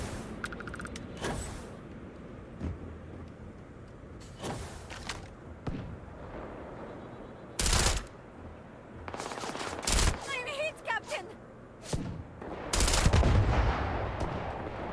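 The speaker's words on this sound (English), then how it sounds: "She can also use the minigun really well." Bursts of minigun fire from the Starfield video game come in short, loud volleys scattered between quieter stretches, with some heavy impacts mixed in.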